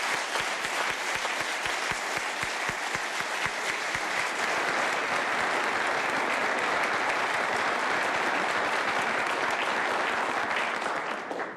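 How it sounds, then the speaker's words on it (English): A packed audience in a state House of Representatives chamber gives a new Sergeant at Arms a dense, sustained round of applause that starts crisp and steady, then swells into a continuous roar of clapping for over ten seconds before easing off. "let's give him a round of applause."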